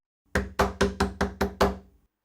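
Six loud, evenly spaced knocks on a door ring out close by, sharp and hollow, with no voices.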